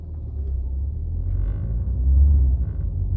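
A Renault Megane IV with a seven-speed automatic gearbox, shuddering as it pulls away from a stop, giving a loud, close, low rumble that rises and throbs as the car moves off.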